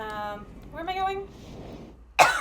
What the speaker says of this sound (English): Bit of a cough today, apparently.